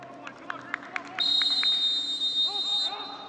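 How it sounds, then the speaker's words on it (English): At the start of a Sporting Kansas City II vs. OKC Energy FC soccer match, a referee's whistle gives a few short toots and then one long sustained blast. A stadium crowd murmurs underneath throughout. "Referee blows his whistle."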